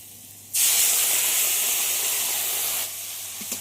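Ground spice paste hits hot oil with frying bitter gourd, bursting into a loud, steady sizzle that holds for over two seconds and then drops back to a quieter background hiss.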